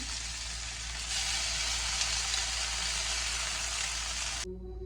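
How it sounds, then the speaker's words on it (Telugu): Masala-coated salmon pieces fry in a little oil, giving a steady, dense sizzle close by that continues evenly for several seconds before cutting off abruptly. "చేపలు అన్ని మసాలా కలిపి పెట్టుకున్నాం కదా, ఇప్పుడు ఫ్రై చేద్దాము."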